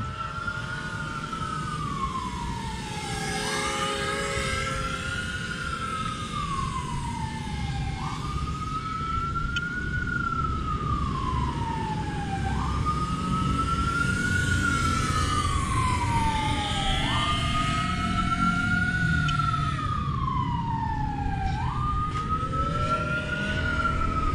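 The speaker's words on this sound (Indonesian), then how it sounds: "ada ambulan tuh" An ambulance siren wails steadily, its pitch rising and falling in repeated sweeps, loud and close over a constant traffic rumble.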